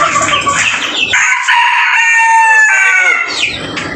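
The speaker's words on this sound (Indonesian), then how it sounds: "Namanya ayam Polandia" Polish chickens on a poultry farm crow and cluck loudly and up close. Several overlapping drawn-out crows stand over busy clucking, and a voice talks faintly in the background.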